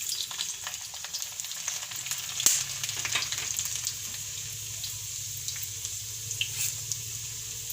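Cumin, cloves, cinnamon, bay leaf and garlic frying in hot oil, a steady hissing sizzle with a few spatula clicks and crackles, close and moderately loud with no talking.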